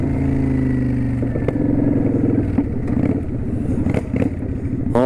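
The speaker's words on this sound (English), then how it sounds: "If you give it the right amount of gas, it'll backfire and burble and carry on." Kawasaki Vulcan 900 Custom motorcycle engine running with a loud, close, lumpy burble, rising and settling with the throttle, broken by scattered sharp crackling pops from the exhaust.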